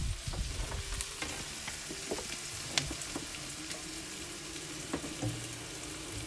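Onions frying in olive oil, a steady close crackling sizzle with scattered pops and a few clinks of a utensil stirring, no voices.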